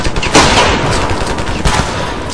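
Rapid gunfire from the video game Ravenfield, with dense overlapping bursts of shots running loud and continuous throughout, without voices.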